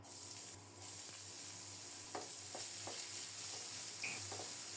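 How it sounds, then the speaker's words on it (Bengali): Whole cumin seeds sizzle in hot oil in a pan for a Bengali curry, a soft, steady, fairly faint hiss dotted with a few light crackles and pops. "এই তেলেই একটু গোটা জিরা ফোড়নে দিলাম"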